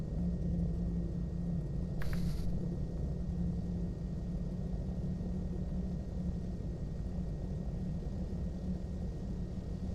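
A Piper Seneca V twin-engine plane taxiing in Flight Simulator X, a low steady engine rumble and hum droning evenly throughout, with a brief click-like chirp near the start and no voices.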